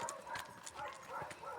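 Horse hooves clip-clopping in a quick, uneven rhythm on a hard surface, fairly close, with faint voices in the background.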